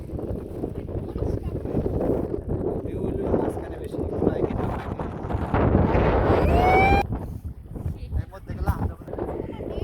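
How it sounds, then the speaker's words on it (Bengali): Wind gusts and water sloshing against a small boat on an evening ride, a steady broadband rush throughout with people talking over it and a brief whistling tone near the end. "তো এই যে ঢেউ খালি ঢেউ ঢেউ বাতাসে ঢেউ"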